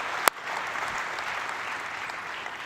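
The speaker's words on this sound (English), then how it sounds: "Go ahead, you can applaud." After the announcement that its 2015 televisions will run Android TV, an audience at Sony's CES 2015 press conference bursts into applause; a sharp knock is followed by moderate, even clapping from a crowd that is fairly distant in the hall.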